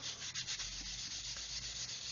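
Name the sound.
rubbing away a seam on a Revell Saturn V model kit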